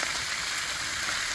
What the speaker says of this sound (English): And I have a lot of bacon in here.